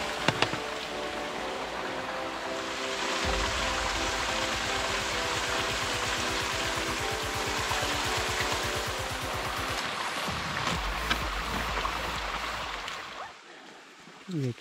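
A small stream flows beside a mountain trail on the Serra do Papagaio crossing in Minas Gerais, giving a steady, close rushing wash that holds for nearly the whole stretch before dropping away at the end.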